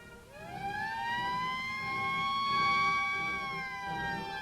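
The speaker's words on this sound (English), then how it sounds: "When a simulated alert sounds, everybody knows what they're supposed to do." A simulated military alert siren at the Panama Canal wails steadily and loudly, its rising and sustained tone carrying over a low rumble without any talk.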